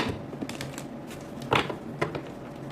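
Tarot cards laid down on a reading surface, a few soft taps and slides close by, brief and moderately loud with no speech.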